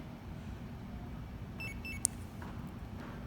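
A short series of faint, high electronic beeps from a Compustar 2-Way Prime G15 remote starter on a 2017 Mazda 6 sounds over a quiet background hum, followed by a single sharper chirp.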